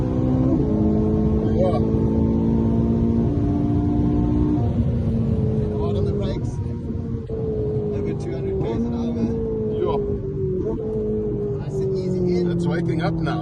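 A race car engine pulls hard at full throttle on a lap of the Killarney circuit, loud and close with rising and falling tones through gear changes, while people talk over it inside the car.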